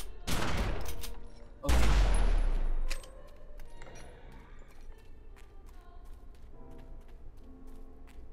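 Ranged weapon attack called Out for a Kill in The Secret World, two loud bursts of rapid gunfire close up, the second heavier with a deep thump, followed by quieter clicks and ambience; a voice speaks once briefly.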